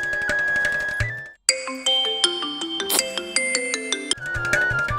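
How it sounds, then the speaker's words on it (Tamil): A phone ringtone plays a bright electronic melody of rising and falling tones, clear and close with no speech over it. "ஃபோன் மேலே ஃபோன் வந்துகிட்டே இருக்கும்."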